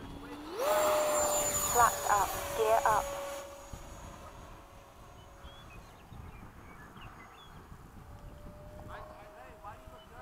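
An FMS 80mm Hawk model jet performs a touch and go at a flying field, its ducted-fan whine rising loud as it passes close, then fading to a steady distant tone with outdoor background noise.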